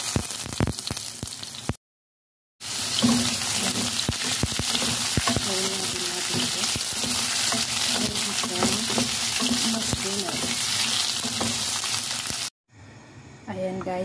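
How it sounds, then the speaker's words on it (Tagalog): Carrots and potatoes frying in hot oil in a pan, a steady broadband sizzle with crackles that runs nearly the whole time, broken by one short silent gap and cut off near the end. "I-preprito muna natin yung carrots at saka yung patatas"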